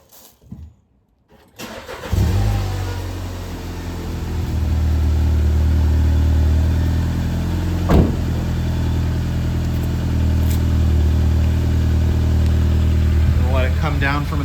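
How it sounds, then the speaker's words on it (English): A 2018 Volkswagen Beetle, cold after sitting about 12 hours, cranks briefly and catches, then settles into a steady, loud high idle heard close by, with a short rev bump midway. "I'm gonna warm the car up."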